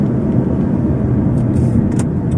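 A 15-year-old Honda Stream with a 1700 cc engine and conventional automatic gearbox drives on a busy road, giving a loud, steady interior engine and road drone with a couple of faint brief clicks.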